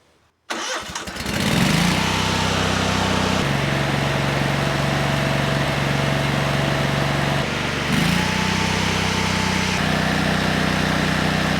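A Lincoln Ranger 8 welder's engine cranks and catches, then runs steadily at a loud, close, even drone, shifting pitch once near the end as the idle control changes speed.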